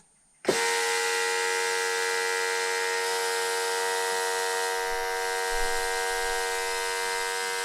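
A vacuum pump switches on abruptly and runs with a steady, droning electric whine as it pulls air from the brake vacuum system of an Audi 80 undergoing an electric conversion. The whine holds constant and continuous to the end.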